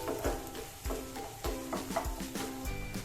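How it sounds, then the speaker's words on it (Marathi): Ginger-garlic paste fries in a pan, a quiet sizzle under regular spatula scrapes that come roughly every half second, close and fairly soft, for a Dhaba-style mixed vegetable dish. "आपण आला लसूणचा कच्चट वास जाईपर्यंत ही पेस्ट भाजून घेऊ"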